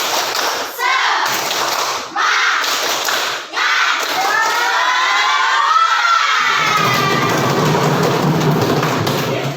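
Children in a classroom do a rhythmic clapping chant, with bursts of shouting and thumping beats in a lively group, their voices loud and close.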